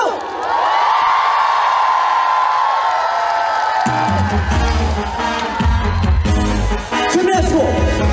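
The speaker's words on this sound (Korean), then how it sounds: "함성!" A large outdoor festival crowd cheers, whoops and shouts loudly and continuously, and from midway the roar carries on over booming music.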